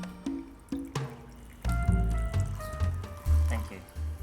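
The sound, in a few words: whiskey being poured into a glass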